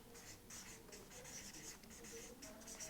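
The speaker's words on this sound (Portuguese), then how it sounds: "Então eu vou escrever lá." A teacher writes syllables on a board, producing quick scratchy strokes in short bursts with brief pauses, close and fairly quiet.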